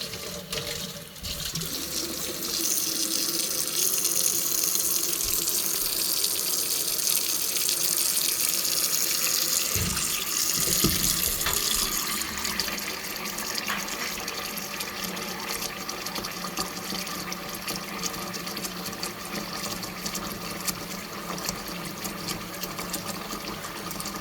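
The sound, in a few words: hot water filling a container from a tap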